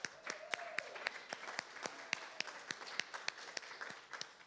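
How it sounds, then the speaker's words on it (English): An audience at a live rock concert in Arkansas claps, with sharp, scattered individual claps in an uneven rhythm, fairly faint and thin as if from a small crowd. "how about another round of applause?"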